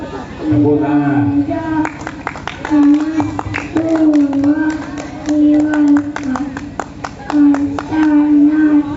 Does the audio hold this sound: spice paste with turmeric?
no